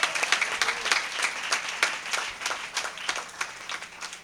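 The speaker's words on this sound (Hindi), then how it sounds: "जोरदार ताली बजाकर परमेश्वर को धन्यवाद करें" A church congregation at a Sunday sermon claps loudly in thanks to God, dense steady applause throughout with no voices.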